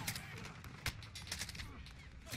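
Gunfire in a first-person shooter game, including an AX50 sniper rifle: scattered sharp shots and bursts, one louder crack near the middle, mixed with game sounds while a player talks over them.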